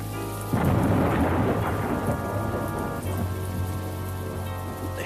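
A cartoon thunderstorm over a morning town, with steady rain pattering throughout and heavy thunder rumbling in near the start and rolling again midway, loud and continuous.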